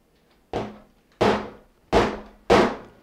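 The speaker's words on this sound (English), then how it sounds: "I'm going to bang this cake to get all the air bubbles out." A cake pan banged down on a counter four times in an irregular rhythm to knock air bubbles out of the batter, each knock a sharp, close thud with a quick decay and silence between.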